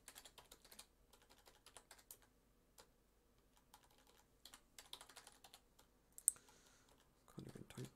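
Computer keyboard typing in quick irregular bursts of close, light clicks with short pauses between them, recorded while someone codes a shooter game in C#.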